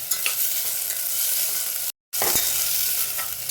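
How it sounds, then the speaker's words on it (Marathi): Tomatoes frying with potatoes in a pan for masoor pulao, a steady close hiss of sizzling oil with scraping stirs, broken by a brief moment of complete silence. "टोमॅटो आपला मऊ होईपर्यंत आपण थोडं परतून घेऊया"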